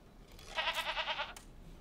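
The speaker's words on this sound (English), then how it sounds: "So he's got some goats over here." Goats bleating in the city-building game Anno 1800, a run of about six quick, wavering bleats in one short burst, fairly faint and close, with no talk over them.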